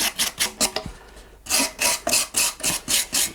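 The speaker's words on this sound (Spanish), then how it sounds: "Un cepillo de alambre pequeñito." A small wire brush scrubs the surface of a dried gourd in a steady series of quick, rasping strokes, briefly pausing in the middle before resuming at a regular rhythm, close and clear with no talking.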